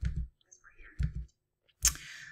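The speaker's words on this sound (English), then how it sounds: "I can click the plus or the check mark" Mouse clicks in video editing software, a few distinct close taps in quick pairs with short pauses between, alone and fairly quiet.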